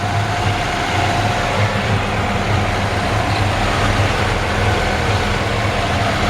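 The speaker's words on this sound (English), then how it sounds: "Beautiful engine, purrs like a kitten." A 1951 Ford F1 pickup's flathead V8 with a new fuel pump and 12-volt system idles steadily, a low, even rumble with a dense broadband wash that holds constant throughout, close and alone with no talk.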